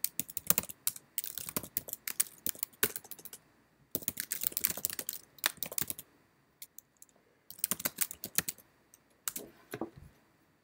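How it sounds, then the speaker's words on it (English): Someone types messages on a computer keyboard in quick bursts of clicky keystrokes separated by short pauses, close and clear with no speech. "So I'm typing messages"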